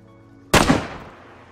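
A single sharp gunshot in the DayZ video game, loud and close, cracking out suddenly after quiet ambient sound and fading into a short rolling echo.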